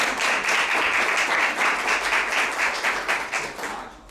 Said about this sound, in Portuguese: então eu gostaria de uma salva de palmas.